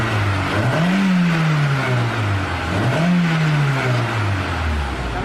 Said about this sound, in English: Get a few revs, I want to hear it. Just some mild revs.